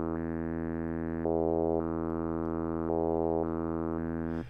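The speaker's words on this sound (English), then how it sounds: "And you can see the LFO actually being stepped through every time you play the note." Sustained synth note from the Zebra plugin, its tone shifting in abrupt steps as a user-drawn stepped LFO moves through its shape, a steady buzzy drone jumping between brighter and darker timbres, alone and clean.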